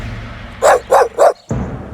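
Three quick, evenly spaced barks from a dog at a bush in a palace garden, loud and close, over a faint background hum, followed by a soft thud.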